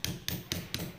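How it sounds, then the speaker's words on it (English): A hammer striking a chisel to carve stone, four sharp evenly spaced metallic taps in a quick steady rhythm, close and clear with no talk. "when you're chiseling, you want to look at where your chisel is pointed."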